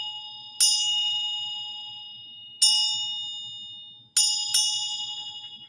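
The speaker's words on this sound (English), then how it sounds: "let's ring the divine justice bell." A ritual bell is struck four times, the last two strikes close together. Each strike rings out clear and bright and decays slowly, with a low hum underneath.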